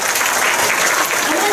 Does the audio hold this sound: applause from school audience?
yes